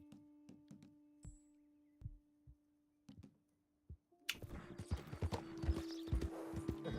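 Sparse horse hoofbeats clip-clop at first in Red Dead Redemption 2, then a denser, louder run of galloping hooves kicks in over a steady hum and rustling noise.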